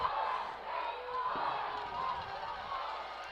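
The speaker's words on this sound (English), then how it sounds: "On the visiting sideline, you can hear the Caney Creek crowd." The visiting Caney Creek crowd at a high school football game against Oak Ridge cheers from the sideline, giving off a steady, distant roar of many voices with no sharp peaks.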